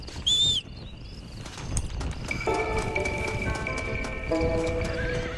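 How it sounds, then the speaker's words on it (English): Horse hooves clip-clopping in Red Dead Redemption: Undead Nightmare, a steady trot with a horse whinnying near the start, then music and ambient tones layered over the hoofbeats. "Horse."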